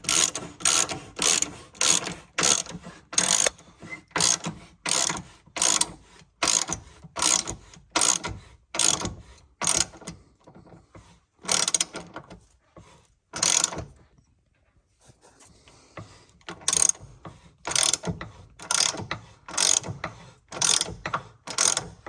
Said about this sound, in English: I'll start trying to tighten the bolt, see what happens.